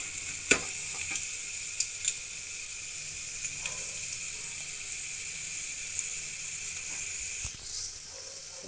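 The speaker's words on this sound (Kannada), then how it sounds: "ಒಣಮೆಣಸಿನ್ಕಾಯಿ, ಒಂದೆರಡು ಸೆಕೆಂಡ್ ಹುರ್ಕೊಳ್ಳೋಣ." Dry red chillies fry in hot oil for a rasam, giving a steady, even sizzle throughout with a few sharp clicks and pops near the start and one near the end.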